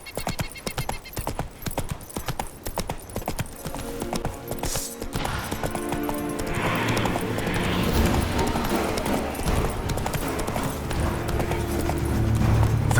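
Roach, the horse in The Witcher 3 video game, gallops in rapid, rhythmic hoofbeats that carry on steadily throughout, with the surrounding game sound swelling louder toward the end.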